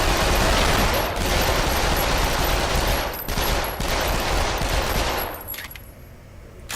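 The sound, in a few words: Uzi gunfire in video game Lethal VR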